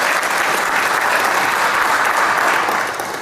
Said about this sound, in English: I think they deserve a round of applause for being with us.